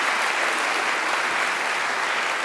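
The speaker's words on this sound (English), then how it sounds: "they deserve a big old round of applause too" Applause from the audience at the 2014 Antenna Awards ceremony, a thick, continuous roar of many hands clapping, loud and even throughout without pause.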